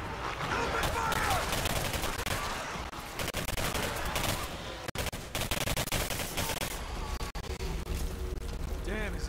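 Sustained rapid gunfire in the first-person shooter Singularity, dense automatic bursts and explosions crackling almost without pause, loud and near, with a couple of brief breaks.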